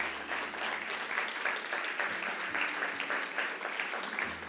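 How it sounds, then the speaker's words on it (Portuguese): A church congregation applauds together, a dense, sustained patter of many hands clapping at moderate distance, steady throughout with no voices over it. "Pode aplaudir ao Senhor."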